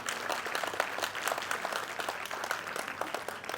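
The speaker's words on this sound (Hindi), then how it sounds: "इसके लिए इनके लिए एक जोरदार ताली सब लोग बजाएंगे" Crowd at a cinema fan screening in Purnea claps hard for a local legislator, dense continuous applause filling the hall for several seconds with no clear talk above it.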